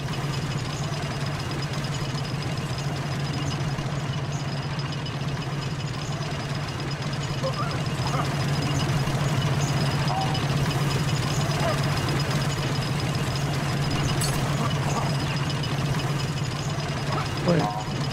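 A steady engine drone hums through the scene of the Lego Star Wars: The Skywalker Saga video game, a continuous low idling rumble that runs unbroken for about eighteen seconds with a few faint clicks near the end.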